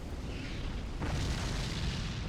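A game explosion in Dark Souls 3, a sudden broad burst about a second in that swells into a dense, sustained rumbling roar over steady background noise, with no talk.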